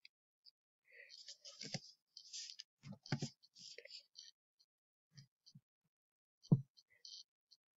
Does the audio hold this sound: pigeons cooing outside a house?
no